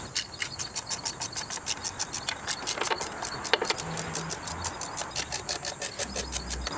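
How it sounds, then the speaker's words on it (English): Quarter-inch drive ratchet with an extension and T20 Torx bit backing out the six bolts holding a BMW ABS/DSC module to its pump, giving steady rapid clicking with a few louder metallic clanks, close and alone. "we're going to take a small quarter-inch drive ratchet, an extension, and a T20 Torx bit to remove the 6 Torx bolts that are holding the module to the pump"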